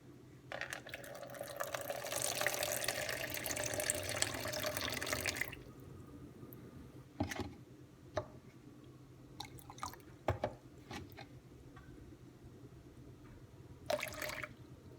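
Water pours from a tap into a bowl while mixing challah bread dough, a steady splashing stream for several seconds that stops abruptly, followed by scattered drips and small clinks in a quiet kitchen.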